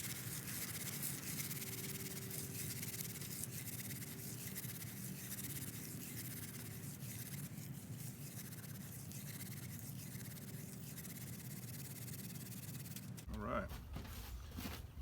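Dry leaves crushed and rubbed between hands into a powdery ember bed for a hand drill fire, a steady close crackling rustle running continuously, then ending abruptly near the close.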